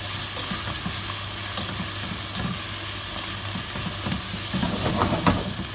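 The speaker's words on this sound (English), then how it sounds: "So now we're going to add our rosemary and our bay leaves. Give them a good stir into there." Rosemary and bay leaves being stirred into a simmering bolognese ragù, a continuous soft sizzle and bubbling with repeated spoon scrapes against the pan, close and even, no talking.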